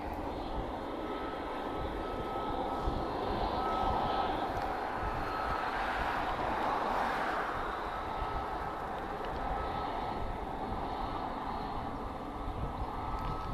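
A Pilatus PC-24 business jet passes at Lisbon Airport, its engines giving a steady, fairly distant roar that swells around the middle and then slowly eases off without fading out fully.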